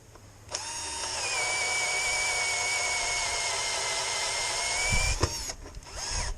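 A Holife 20V cordless drill/driver whirs steadily on speed setting 1, a loud close whine that starts abruptly, holds for about four and a half seconds, then cuts off with a clunk and brief handling noise.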